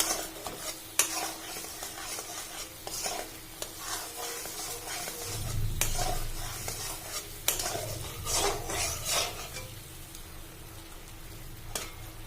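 Mango pieces go into simmering sugar syrup for mango pickle, giving soft sizzling and bubbling with scattered stirring clinks of a spoon against the pot, fairly quiet and close.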